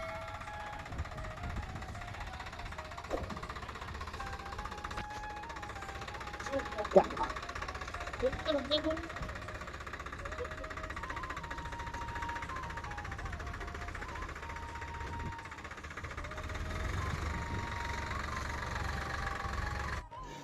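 A tractor engine runs steadily at a near idle as it gets ready to pull out a stuck Toyota Fortuner, a low continuous rumble under people talking nearby.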